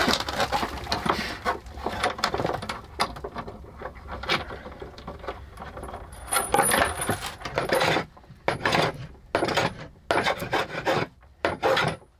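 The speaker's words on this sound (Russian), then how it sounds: "Ну тут, в принципе, 4 самореза открутить нормально." Self-tapping screws being unscrewed from a table in a forest dugout, with scraping, rasping bursts and sharp clicks of metal, some irregular and close, separated by short pauses.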